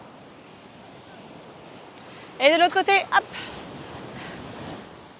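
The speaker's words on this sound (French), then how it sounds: "Le bruit des vagues, j'adore." Ocean waves wash steadily onto the shore as a continuous broad surf roar, with a voice speaking briefly over it partway through.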